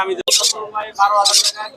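Birds chirp in short bright bursts at the Mirpur 13 Bottola bird market in Dhaka, two quick calls breaking through close-up talk from a man nearby.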